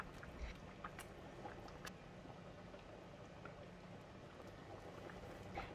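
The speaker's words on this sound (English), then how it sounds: "After 3 minutes, the curry is boiling vigorously." Fish curry with coconut milk and tomatoes boiling vigorously in a pot, a faint, steady bubbling and popping with scattered small liquid plops throughout.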